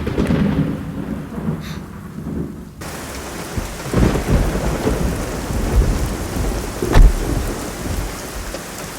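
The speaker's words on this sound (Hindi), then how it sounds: "बारिश हो रही है" Heavy rain pours steadily through the scene while thunder cracks and rumbles, with a loud clap near the four-second mark and another sharp strike around seven seconds, in a dramatic storm.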